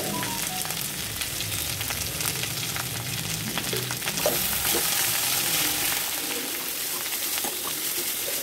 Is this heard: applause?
no